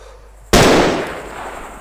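A single loud SVD sniper rifle shot in a first-person shooter game, a sharp crack that bursts in after a quiet half second and then rolls off into a long, fading echo.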